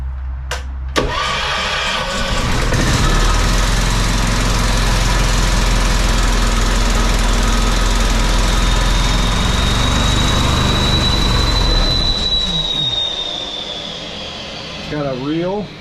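An HVAC service van's engine runs with a steady, rough low rumble close by, then winds down near the end, with a person talking over it.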